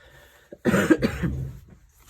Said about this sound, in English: Excuse the coughing in the background and things.